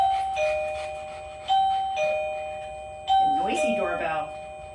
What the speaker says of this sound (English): Noisy doorbell.